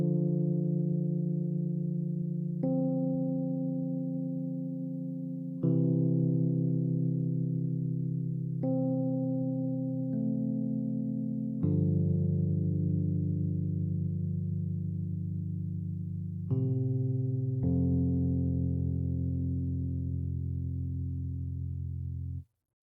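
Native Instruments Scrappy Mark 1 electric piano playing sustained chords with no effects, warm and mid-heavy, each chord struck and left to ring and slowly fade before the next, alone and moderately loud.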